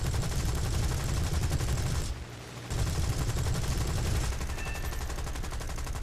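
Aircraft cannon fire in the War Thunder flight game, a loud sustained burst of rapid shots that stops briefly for about half a second, then resumes with continuous engine roar underneath.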